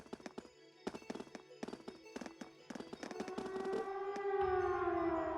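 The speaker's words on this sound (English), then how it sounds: "Sounds like a siren. It seems to be coming from the fort." A siren wails from a fort in a video game, rising over a series of sharp, crackling bangs like fireworks, then holding a steady, moderately loud tone.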